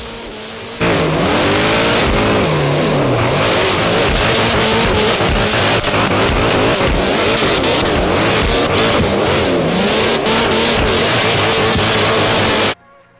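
Nissan 180SX drifting in the video game DriftCE: a loud engine revs hard and continuously, its pitch surging and dipping with tyre squeal mixed in, then it cuts off abruptly at the end.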